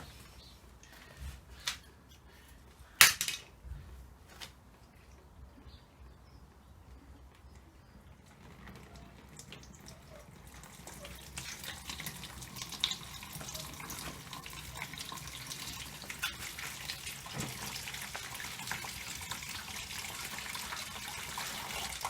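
Hot water flushes through the radiator of a John Cooper Works car after a Holts two-part radiator flush, first quiet with a few knocks, then a steady rushing gush of running water, close and moderately loud.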